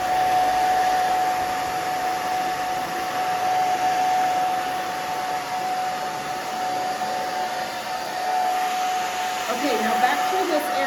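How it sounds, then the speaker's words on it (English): A hair dryer runs steadily while blow-drying curly short hair near the ear, a constant close whir with a faint high whine throughout and some brush or handling noise near the end. "right here by her ear, we're gonna dry forward."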